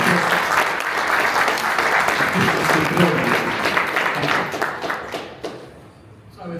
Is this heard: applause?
yes